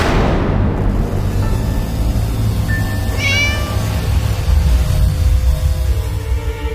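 A cat meows in a short, clear cry, heard alone over a steady background hum with no talk.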